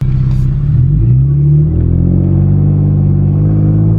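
A 2015 Chrysler 200 with a 3.6L engine and a ported 80mm throttle body is driven on the road; its low engine hum and road rumble, heard from inside the cabin, swell and settle as it pulls along.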